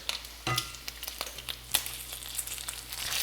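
Long bacon strips frying in a pan, a quiet crackling sizzle with scattered sharp pops and spits throughout.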